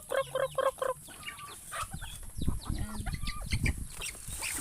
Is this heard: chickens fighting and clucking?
yes